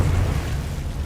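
Confringo fire spell explosion in the game Hogwarts Legacy: a single loud low boom that hits hard at the start and then rumbles away, heard alone and close.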